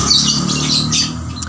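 A lovebird kept for fighter-bird competition squawks in a shrill, continuous burst at close range, loud and alone.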